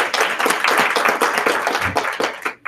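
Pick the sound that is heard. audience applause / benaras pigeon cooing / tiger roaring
audience applause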